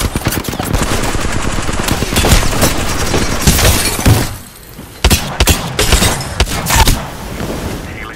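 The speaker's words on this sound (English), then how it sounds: "They're shooting at me." Dense, continuous bursts of enemy gunfire in Apex Legends, loud and close, with sharp cracks and shattering impacts; a brief lull midway before more rapid shots resume.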